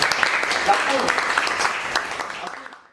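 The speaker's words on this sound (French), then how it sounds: "En tout cas, applaudissez, il a bien applaudi." Audience applause at a French-language coaching event, steady dense clapping at moderate volume that fades out toward the end.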